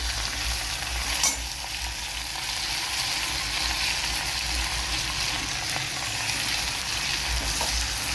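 Sambar powder being stirred into a frying dosa filling in a pan, a steady close sizzle with scraping stirring sounds throughout.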